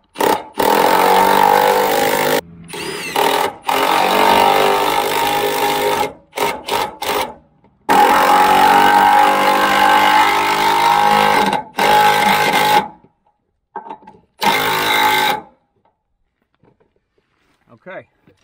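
Lag bolts being driven to mount an ammo can on a pallet, loud bursts of power-driver whirring in several runs of varying length with short gaps, close by.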